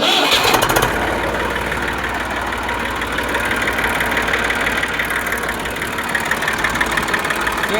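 An Eicher 380 tractor engine cranks and catches in a loud burst, then settles into a steady, close, rumbling diesel idle with a regular knocking pulse and no talking.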